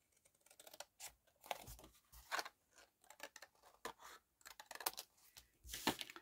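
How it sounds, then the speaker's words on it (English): Scissors cutting along a scored line in card for a handmade memory book, a quiet series of short crisp snips and rustles in an uneven rhythm, heard close up. "I'm just going to cut this right off up that line"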